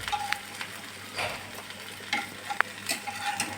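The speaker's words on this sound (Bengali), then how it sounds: "ভালোই লাল লাল হয়ে গেছে ভাজা।" Mutton fat fritters fry in a pan with a faint, even sizzle, punctuated by a few sharp clicks and scrapes of a utensil turning them.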